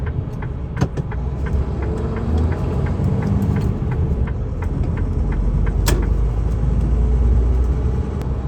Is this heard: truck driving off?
yes